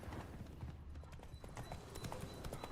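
Hooves of Roach, the horse in The Witcher video game, clip-clopping at a steady rhythmic gait throughout, fairly close and continuous under low background game ambience.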